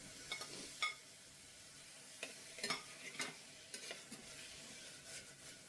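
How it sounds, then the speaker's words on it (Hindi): Tomatoes tipped into onions frying in a home kitchen pan: a steady sizzle broken by scraping, clacking stir strokes at an irregular pace, close and fairly quiet, with no one talking. "प्याज हमारी हो चुकी है, तो अब इसमें टमाटर डाल देते हैं"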